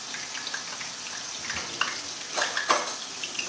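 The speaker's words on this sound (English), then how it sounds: "Not too much of a sizzle there." Food sizzling in a pan on a stove turned down to medium, a soft steady crackle with scattered pops and a couple of louder spatters near the end, close and fairly quiet with no talk.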